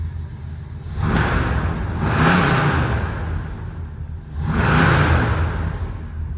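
A 1969 Oldsmobile Cutlass engine revs up loudly twice, the first burst long and sustained and the second rising again after a short dip, with no one speaking.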